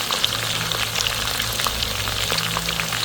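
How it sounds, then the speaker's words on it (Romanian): Onion and lamb fry in a cauldron, a loud, even, close sizzle with fine crackles and spatters like light rain, continuous and without any voices. "După ce ceapa a început să călească, a prins o culoare ușor maronie"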